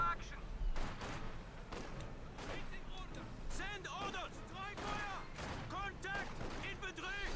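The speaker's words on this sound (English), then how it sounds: "caught in the center by the Maxim machine gun" Maxim machine gun fire and other battle sounds in the strategy game Company of Heroes 2, with repeated bursts and explosions across the clip, while a commentator talks over it.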